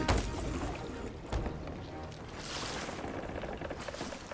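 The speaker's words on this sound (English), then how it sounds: "Who's just taking water and dumping it into the ship?" Water splashing and pouring aboard a wooden pirate ship in Sea of Thieves, a steady wet rush with a couple of heavier sloshes, moderately quiet and continuous without talk.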